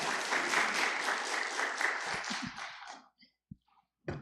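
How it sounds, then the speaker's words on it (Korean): An audience claps to welcome a speaker at a coaching graduation ceremony, a dense burst of applause lasting about three seconds before tapering off into a few scattered sounds. "우리 박수로 한번 환영하시겠습니다"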